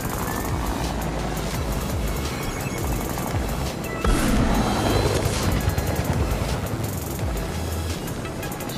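A helicopter in a video game flies by amid dense rumbling engine noise and game effects, growing louder for a moment midway before settling back into a steady drone.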